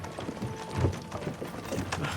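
Horse hooves clip-clop in Kingdom Come: Deliverance II, a slow, steady rhythm of soft thuds at close range alongside faint creaking of harness or cart.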